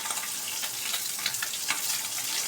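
Tengra fish fry in a pan, only lightly fried, with a steady, close crackling sizzle and small irregular pops throughout and no voices.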